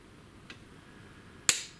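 A single sharp, close torque wrench click rings out after a faint earlier tick, with near silence around it, while tightening the cylinder head of a 2006 Renault Logan 1.6 8V engine.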